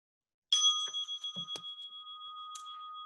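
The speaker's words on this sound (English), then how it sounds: "okay. So I'm going to start with the bell." A single bell struck once after silence, its clear ringing tones sustaining and slowly fading, with a few faint clicks and rustles underneath.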